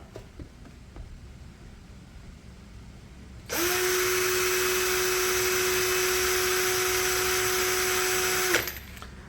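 A 16V DCK KDJZ1602i cordless impact drill in drilling mode at speed setting 2 starts up after a quiet stretch and runs at a steady, close, loud whine for about five seconds, then stops abruptly.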